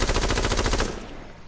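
A rapid burst of automatic gunfire from a high-recoil weapon in the PS4 game H1Z1, loud shots in quick, even succession for under a second, then a short fading tail.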